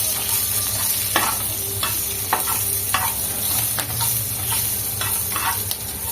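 Cinnamon, garlic, cumin and green chilies fry in a pan, giving a loud, steady sizzle broken by repeated clicks and scrapes of stirring, with no talking.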